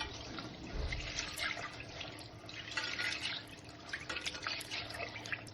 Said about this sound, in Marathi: अगोदर स्वच्छ पाण्याने आपण चण्याची डाळ धुवून घेणार आहोत